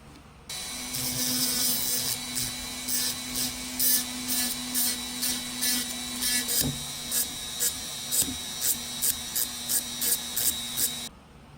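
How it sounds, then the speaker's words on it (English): A steady mechanical whirring runs throughout, broken by a rapid series of short rhythmic bursts of abrasive grinding, like a small rotary sander shaping a wooden fishing popper up close. "So let's start sanding now."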